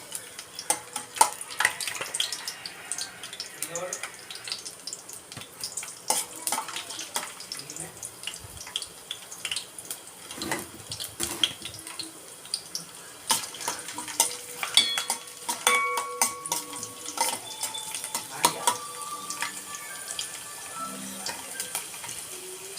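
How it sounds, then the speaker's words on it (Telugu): Garlic cloves fry in hot oil in a home kitchen, giving a steady sizzle broken by frequent clinks and scrapes of a utensil against the pan. Running water from a tap is heard off and on, and nobody speaks. "నూనె వేడైంది. దీనిలోనే ఎల్లిపాయలు ఒలిసి పెట్టుకున్నాను. ఎల్లిపాయలు వేసుకుంటున్నాను."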